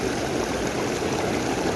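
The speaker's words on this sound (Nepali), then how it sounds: "खोला चाहिँ खतरा रहेछ गाइस" A river stream flows steadily and loudly close by, a continuous broadband rush of water with no voices over it.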